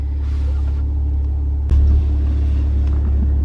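Maserati Quattroporte S Q4 with a turbocharged 3.0-litre V6, over 400 horsepower, droning steadily with a deep, even rumble, a brief thump partway through as the engine note shifts slightly louder.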